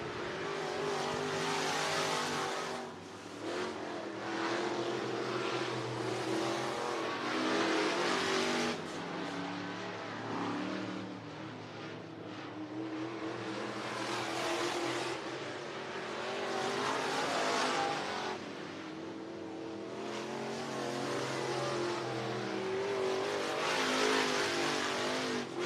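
IMCA Sport Mod race cars qualifying on a speedway, engines roaring and swelling continuously as the pack passes, loud and steady over about half a minute with no voices.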